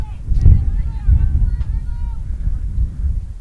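Wind gusting across an outdoor microphone at a girls' high school soccer game, heavy low rumbling buffets swelling in bursts and rising loudest near the start, with faint whistling tones above.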